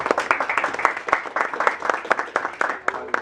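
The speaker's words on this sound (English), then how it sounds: "Please hold your applause to the end." A short burst of applause at a game room grand opening, many hands clapping in a quick, irregular patter from a nearby crowd.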